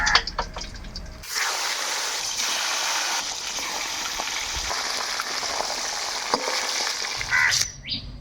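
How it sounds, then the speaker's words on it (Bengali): Large catla fish heads fry in hot oil, giving a loud, steady sizzle that runs for about six seconds, with a few soft handling sounds just before it starts and just after it stops. "আমরা কিন্তু ঠিক একইভাবে সব মাথাগুলাই ভাজি নিব।"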